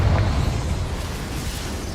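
A Confringo blasting spell detonates in Hogwarts Legacy, a loud, sustained rumbling boom that fills the whole moment with heavy low-end roar and no talk over it.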